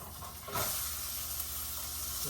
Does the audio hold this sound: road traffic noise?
no